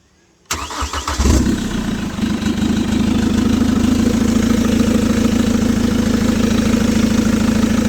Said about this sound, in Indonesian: Coba starter Sun.